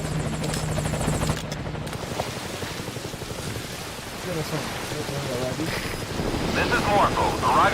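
Morpho, a helicopter in Metal Gear Solid V: Ground Zeroes, arriving at a landing zone: rapid rotor chopping throughout, with rain and wind noise, moderately loud, and a radio voice speaking over it.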